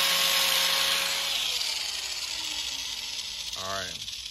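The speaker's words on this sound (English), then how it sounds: "So I'm gonna grind this off." An angle grinder grinds off clutch parts on a turbocharged Yamaha FZ-07/MT-07 motorcycle, starting as a loud, harsh, steady grind that fades into a winding-down whir, with a brief sharp scrape near the end.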